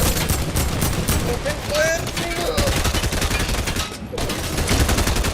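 Rapid automatic gunfire rattles continuously through a video game fight, dense and loud, with a brief gap near the end before the shooting resumes; voices can be heard faintly beneath it.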